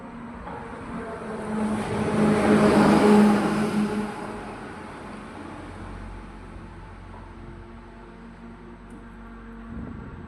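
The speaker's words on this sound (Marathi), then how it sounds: "हे ते गाड्यांच्या गर्दीत आम्ही अडकलो होतो" Dense roadside traffic jams up at a village fair, with cars and large travel buses idling and a steady engine rumble that swells to a louder passing vehicle early on, then settles into a constant background drone.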